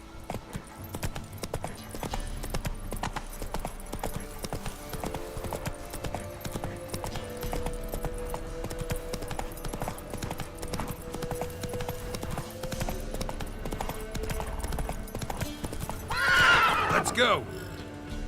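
Horse hooves clip-clop in a steady rhythm while riding in The Witcher 3: Wild Hunt, with a horse whinny near the end and game sounds and speech underneath.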